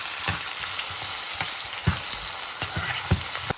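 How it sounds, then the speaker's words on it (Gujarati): Onions sizzle in hot oil as they fry until browned for egg fried rice, a constant crackling hiss broken by sharp scraping clicks of stirring at irregular intervals. "આપણે આવી રીતના લાલ થાય ત્યાં સુધી આપણે તળવા દઈશું"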